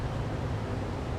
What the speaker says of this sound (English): That's just wind.